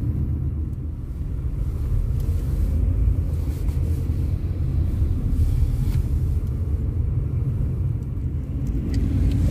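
A steady, deep engine and road rumble heard from inside a moving car, constant and fairly loud for the whole stretch, with no talking.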